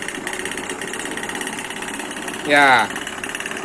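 Car engine idling steadily with a low even hum throughout, while someone speaks briefly over it near the end.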